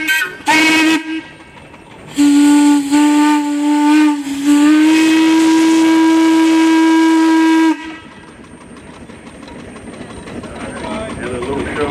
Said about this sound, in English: And a little show of the whistle.